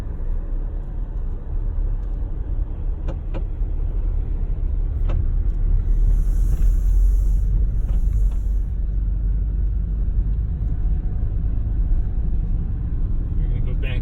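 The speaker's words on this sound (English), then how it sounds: "So I turn the car around." A car makes a slow turn on a road beside Glimmerglass lake in Cooperstown, New York, with a steady low engine and road rumble that stays even and close throughout. A voice talks over it.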